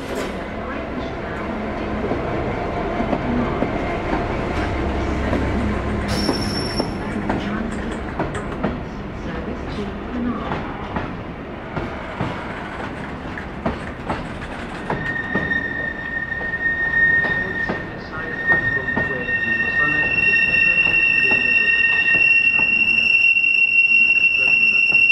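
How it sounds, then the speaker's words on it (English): A Transport for Wales train rolls into platform 7 of a station, wheels clattering and then squealing with high, sustained metallic screeches as it slows, loud and close throughout. "The train now approaching platform 7 is 11:47 Transport for Wales."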